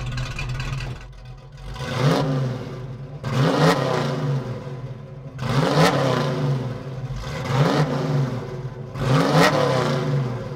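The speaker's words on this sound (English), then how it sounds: "Well, I guess I should go rev up the car." A classic Ford Mustang V8 revs hard through its exhaust in four or five loud, close bursts that climb and fall, with a steady idle rumble between them and no talking.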